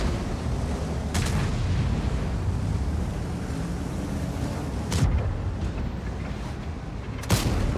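World of Tanks gameplay with an AMX-67 Imbattable tank: a few sharp, loud cannon blasts cut through a constant windy, rushing background rumble, spaced several seconds apart.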